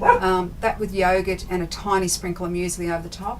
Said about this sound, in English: excuse my dog's barking